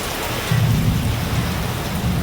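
Rain pours down steadily over a village, a dense continuous hiss of drops on surfaces with a low rumble underneath, and no one speaking.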